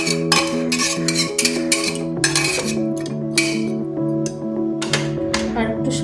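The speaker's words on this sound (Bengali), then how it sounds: "নেড়ে চেড়ে" Hilsa fish pieces stirred in a pan with salt and turmeric and a little water, a quick series of metallic scrapes and clinks from a utensil against the pan, close and fairly loud, over a bed of background music.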